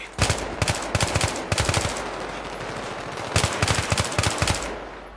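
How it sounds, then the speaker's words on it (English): Bursts of machine gun fire in the Battlefield 3 video game, several rapid, loud close-range volleys separated by brief pauses. "Let's get the machine gun."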